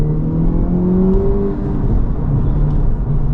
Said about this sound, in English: That's why you hear a little bit of extra spicy engine note from this Type R.